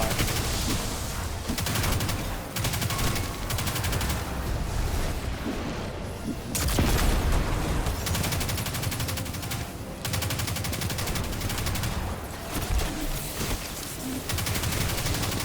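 Dense, continuous gunfire and bursts of automatic weapons from allied fighters in a Destiny Nightfall Strike against the Fallen Saber, loud and sustained with scattered heavier impacts throughout.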